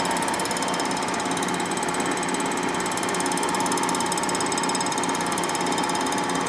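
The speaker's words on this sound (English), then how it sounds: "Oh, hear that steel hitting?" A milling cutter chatters against steel while resurfacing a warped 1957 Harley panhead cylinder head, a loud, dense, continuous metallic rattle and grinding with no pauses and no talk.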